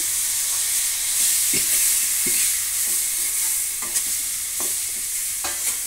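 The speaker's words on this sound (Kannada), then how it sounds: "ಚೆನ್ನಾಗಿ ಫ್ರೈ ಆಗಬೇಕು ಟೊಮೆಟೊ" Chopped tomatoes fry in a pan with a steady bright sizzle, broken by a few soft scraping stirs of a spatula, close and continuous.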